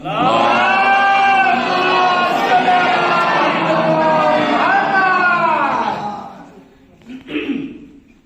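A large gathering at a Jashn celebration of Imam Ali's birth in Aurangabad raises a loud, sustained collective chant of salawat for about six seconds, the voices blending into one swell before fading, then a short second burst.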